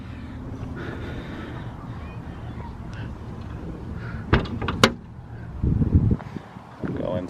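A storage bin door on a 2016 Ford F550 Jerr-dan MPL40 wrecker opens with a couple of sharp metallic clacks and a brief rattle, followed by duller thumps, heard close against steady outdoor background noise.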